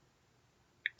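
Two quick computer mouse clicks at the very end of an otherwise quiet moment, crisp and close but brief.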